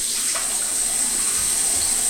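Water runs steadily into a bowl being filled to soak a synthetic shaving brush, a continuous close splashing rush with no voices.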